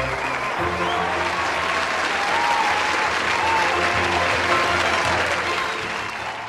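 Concert hall audience applauding after a classical music performance, dense sustained clapping from a large crowd, even and continuous throughout.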